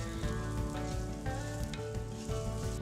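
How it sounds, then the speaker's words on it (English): Nuts toasting with salt in a hot pan give a steady close sizzle with soft rhythmic scraping strokes from stirring, continuous and fairly quiet, no voices. "These nuts toast a little bit and they suck up that salt."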